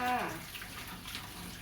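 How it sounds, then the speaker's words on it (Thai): Cold tap water pours out to rinse ingredients for a Thai curry, a short, fairly faint rush of running water that starts with a brief louder splash. "เสร็จแล้วเราก็ปล่อยน้ำเย็นใส่ค่ะ"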